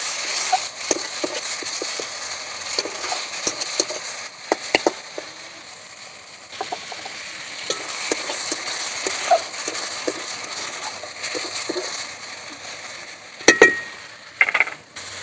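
Water lily stems being stirred in a pan with ginger and green chili paste, heard as close, irregular scraping and clinking of a utensil against the pan over a faint sizzle, with a few sharper knocks.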